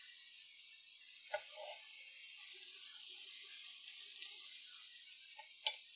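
Diced onions hiss softly in a pan alongside mushrooms, a faint continuous sizzle broken by two light knocks of a utensil, with no one talking.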